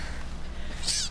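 A small kitten gives a short, thin, high meow while being bottle fed, close but faint over steady low background hum.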